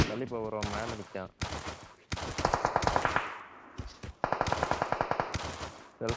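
Rapid gunfire bursts from a shooting video game crackle loudly in repeated volleys while players talk over the action.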